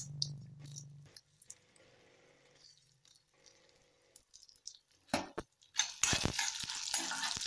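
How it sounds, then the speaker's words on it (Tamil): Peanuts with chana dal and urad dal roasting in a pan, quiet at first, then a few bursts of scraping and stirring with a dry sizzle near the end. "வேர்க்கடலை சேர்த்து எல்லாம் வந்து நல்லா கோல்டன் ப்ரௌன் ஆகிற வரைக்கும் நல்லா வறுத்துக்கோங்க"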